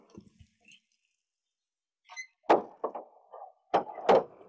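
A door is pulled shut indoors in a domestic drama scene, giving several close, sharp knocks and thuds with a brief rattle, after a quiet opening and a faint shuffle.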